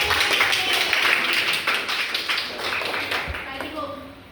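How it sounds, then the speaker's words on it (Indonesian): Primary school classmates clap for a pupil named Zaid, a quick burst of light, uneven hand claps in a classroom that tapers off, with voices murmuring underneath. "Tepuk tangan dulu untuk Zaid"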